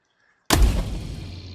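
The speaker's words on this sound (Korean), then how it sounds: "자 그러면 총소리 한번 보겠습니다" A single sharp, loud gunshot from the FANG gun set in the Roblox video game breaks a near-silent moment, followed by a long reverberating tail that slowly fades.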